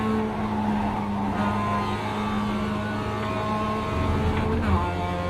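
A race car in a racing video game runs at high revs with engine drone and tyre scrub through oversteer out of a corner, a steady loud tone with sweeping pitch shifts and brief skid noise.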